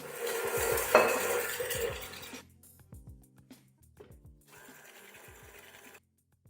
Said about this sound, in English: we need to whip our egg yolks and sugar. I decided to switch to my big guy, as always, my favorite mixer